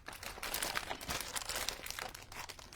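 Paper sheets and thick die-cut stickers being shuffled and handled up close, a steady run of crinkling, rustling and crisp crackles with no talk.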